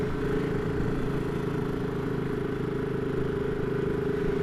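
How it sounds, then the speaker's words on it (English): A steady, deep BSA Gold Star 650 motorcycle engine throbs continuously at idle or low revs, a rich low rumble filling the whole stretch without pause. "Lovely throb to that 650 engine."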